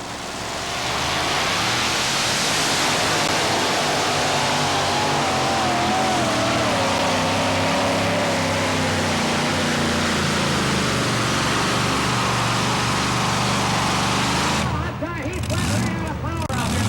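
Super modified two-wheel drive pulling truck roaring loudly and continuously as it drags a sled down a damp dirt track at a Hamburg, New York pull, with an announcer talking over it before a brief drop at the end.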